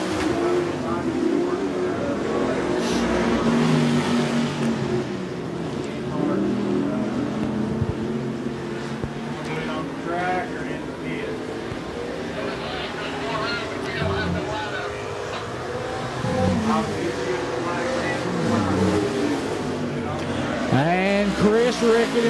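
Street stock race cars roar around Smoky Mountain Speedway on the final lap, a continuous loud, shifting engine drone as cars pass, with an announcer talking over the racing.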